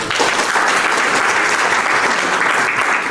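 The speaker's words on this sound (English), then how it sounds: "Give her a big round of applause." Loud, steady applause from a crowd at a provincial education engagement event, a dense continuous wash of many hands clapping for a few seconds with no pauses.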